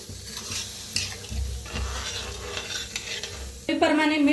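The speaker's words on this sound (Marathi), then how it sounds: "मिक्स करून घेऊया।" A spoon stirs a watery pithla mixture of fried onion, turmeric and coriander powder in a pan, making scraping and clinking strokes over a soft sizzle, with a brief louder bubbling burst near the end.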